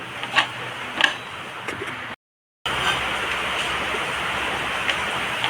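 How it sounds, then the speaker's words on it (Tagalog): Steady rain patters in a constant hiss with occasional light ticks and drips, broken briefly by a moment of silence. "pasensya na mga lods dahil umuulan kaya maingay"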